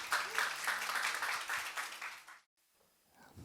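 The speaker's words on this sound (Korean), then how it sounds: "우리 박수 좀 맞이해 주세요." A church congregation applauds steadily for a couple of seconds during a Sunday worship service, then the clapping cuts off abruptly into near quiet.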